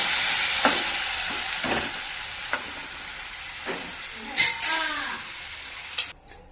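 Lamb liver and lung gravy with onion and tomato sizzling in a pan while being stirred, a constant hiss with scattered scraping clinks of the spoon, close and moderately loud.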